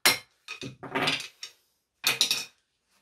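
Sharp metallic blows from a wide screwdriver striking a BMW M3 E36 differential part during a rebuild, several clanking, clinking hits in quick bursts with short pauses, close and crisp.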